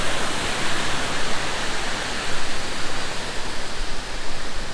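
Water running and trickling down a mountainside near Guptkashi, a steady broadband rush that swells and eases slightly, continuous and fairly close, no talking.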